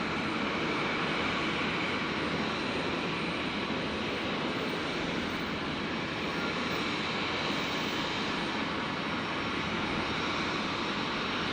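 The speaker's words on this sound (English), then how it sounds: "Just in time to catch Jetstar 570 touching down there on 19 left." Jetstar Airbus A320, arriving from Melbourne, touching down on runway 19 left at Brisbane Airport at night, a steady broadband jet roar that holds at even loudness throughout, with no voices.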